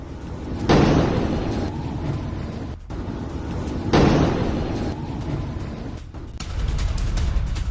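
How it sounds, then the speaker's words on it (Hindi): Explosions on city streets during violent unrest in Bangladesh: two loud booming blasts a few seconds apart, each fading into rumbling street noise, with a sharper crack shortly before the second. "सड़कों पर धमाके"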